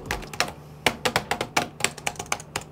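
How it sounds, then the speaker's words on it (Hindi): Rapid keystrokes on an Asus ROG Strix G16 gaming laptop keyboard during a quick typing test, a close, crisp stream of clicky taps in uneven bursts with no talking. "अगर मैं थोड़ा टाइपिंग टेस्ट करता हूँ दोस्तों"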